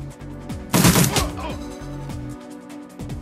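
In the Shadowrun Returns video game, an Uzi fires a loud, sharp burst of rapid gunfire. Lower game sounds and music follow at a steady level.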